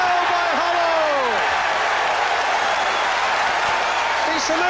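Football crowd at a Tottenham match applauding a Glenn Hoddle goal, a broad, continuous wash of clapping and crowd noise, loud and steady throughout, with a commentator's voice over it.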